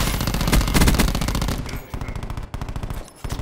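Rapid automatic gunfire in the shooter game Black Ops 4, loud bursts of rattling shots fired in quick succession with brief pauses between strings.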